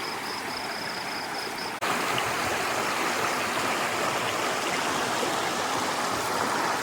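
Creek water flowing steadily nearby, a loud, even rushing wash with no talk; a faint steady tone fades out early and a brief cut marks a slight rise in level.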